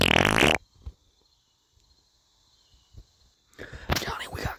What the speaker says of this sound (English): I know what a fart sounds like when I see one, and there's one right there.